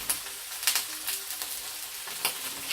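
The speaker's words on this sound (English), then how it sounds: "then I'm going to go in with some of my meatballs" Seitan meatballs frying in a pan, a steady close sizzle with crackling pops and faint scraping throughout.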